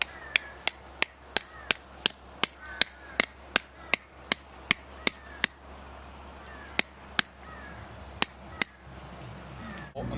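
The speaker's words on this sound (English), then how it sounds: "just pound it in with a hammer" Sharp metallic hammer blows pounding a stake into the ground, about twenty in a steady rapid rhythm, then a few slower, spaced strikes near the end; close and crisp.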